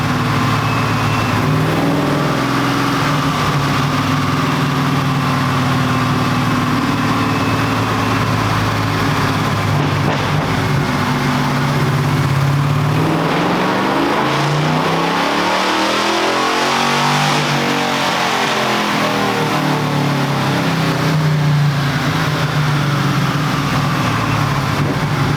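A Ford Godzilla V8 swapped into a square-body Chevy C10 truck revs hard on a chassis dyno, building through a sustained, loud wide-open pull that swells and then eases off mid-clip before holding a steady roar to the end.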